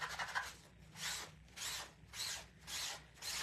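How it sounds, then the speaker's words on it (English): A board eraser rubbed back and forth to clean a board: five soft, rhythmic scrubbing strokes, close and fairly quiet, with short pauses between them. "So now we're going to take our board eraser and we're going to just clean it off."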